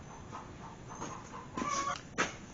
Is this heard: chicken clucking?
yes